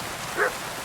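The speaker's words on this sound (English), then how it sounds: "Who are you barking at," A dog in the Kingdom Come: Deliverance 2 video game gives a single short bark or yip, mid-distance and fairly faint over a steady background hiss.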